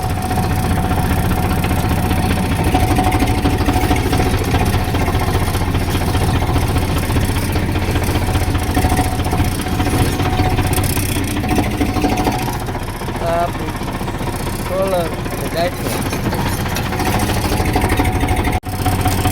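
A tractor engine runs steadily and loudly at idle, a constant low throbbing drone throughout.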